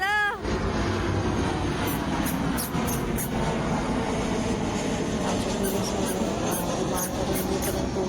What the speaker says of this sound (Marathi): विमान आलं.